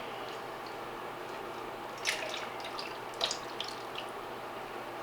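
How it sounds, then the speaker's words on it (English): A mixture of clam juice and milk is poured from a bowl into a cooking dish for a seafood casserole, a soft, steady liquid trickle with a couple of brighter splashes partway through. "we're going to take this and pour it in to my cooking dish"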